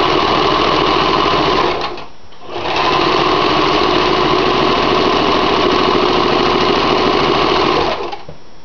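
Sewing machine stitching a drawstring bag, loud and close, running in a fast, even whir, pausing briefly once, then continuing steadily before stopping.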